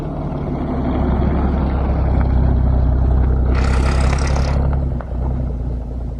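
A 1952 Ford F1 pickup truck's engine rumbles low and steady close by while driving, with a brief hissing burst in the middle and a short dip near the end, no voices heard.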